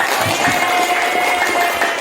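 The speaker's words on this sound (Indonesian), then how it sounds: "Oke, tepuk tangan untuk kita." A classroom of children applauding at the end of a lesson, with loud, dense clapping and crowd noise filling the room throughout, and a faint voice underneath.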